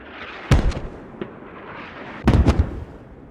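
Mortar explosions in the military shooter Squad land as two heavy booming blasts, each with a quick trailing rumble, plus one smaller thump between them, over a low background hum.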